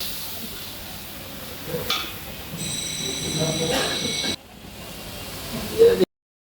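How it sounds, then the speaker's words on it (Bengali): Water poured into a hot kadai of cooking spice paste for chicken kosha, giving a loud steamy hiss that builds and lasts a couple of seconds before cutting off, with a clatter near the end. "আরও কিছুটা জল দিয়ে দেবো কড়াইতে"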